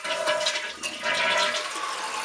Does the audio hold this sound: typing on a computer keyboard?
no